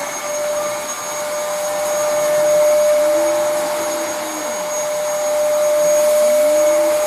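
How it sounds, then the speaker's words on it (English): A Dyson DC14 vacuum cleaner runs steadily with a loud, high-pitched whine while picking up paper shreddings and food debris from the floor, its tone wavering slightly as it moves, with no talking. "it's quite a good vacuum. And here it is in action."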